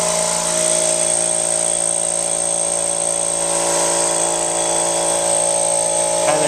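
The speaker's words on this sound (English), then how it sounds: "It's not too loud, but it's not the quietest compressor either." A new air compressor rated around 115 PSI runs steadily at close range, a loud continuous mechanical drone with a high whine and several steady tones, unbroken for the whole stretch with no talking.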